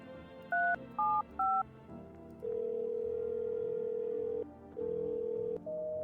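Three short touch-tone beeps dialed on a telephone in the video game No, I'm Not A Human, followed by a long steady tone, a brief break and another tone, close and clear with no talking.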